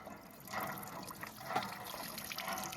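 Water running from a village hand pump, a faint, soft gushing and trickling in quiet surges, with no talk.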